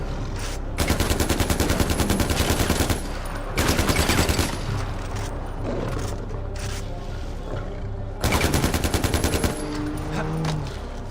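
AK-47 assault rifle fire in Far Cry 4, loud sustained automatic bursts in three long volleys with rapid even rhythm, over steady game ambience.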